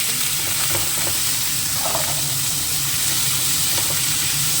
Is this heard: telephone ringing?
no